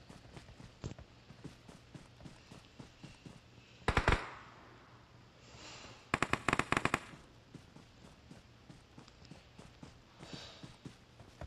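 Gunfire in the mobile shooter game PUBG Mobile comes in sharp rapid bursts of automatic shots, with scattered single cracks and footstep-like taps between the volleys.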